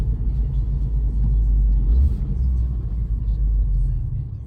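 Renault Clio 4 RS Trophy 220hp with automatic gearbox downshifting, a steady low engine rumble from inside the car that swells briefly in the middle, with people talking over it.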